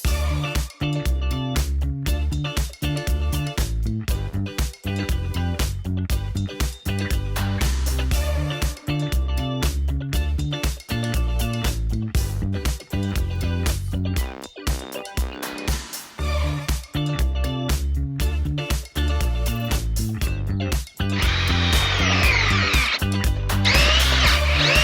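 Power drill boring with a large 1.5 by 17.5 inch auger bit, a loud continuous grinding whine that runs steadily with brief dips and surges, pitch rising near the end, with no talk over it.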